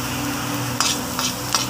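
Ginger sautéing in a pan for ginataang native chicken, a steady close sizzle with a low hum beneath and three short bright scraping stirs near the end; no voices.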